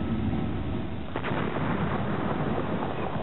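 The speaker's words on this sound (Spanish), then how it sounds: "el ataque continuó día y noche, sin alivio alguno de las explosiones" Ottoman cannon fire from a bombardment by more than sixty great cannons at the siege of Constantinople: a continuous, heavy low roar of blasts. One sharper crack rises near the middle, and no voices are heard.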